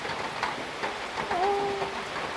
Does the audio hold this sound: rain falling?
yes